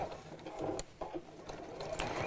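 A sewing machine runs steadily, stitching around the top of a fabric bag, with faint mechanical clicks and a quiet, continuous whir.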